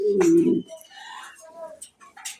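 Pigeons kept for sale, including Andalusian birds, give a close, low throaty coo at the start, followed by softer scattered bird chirps and faint background voices.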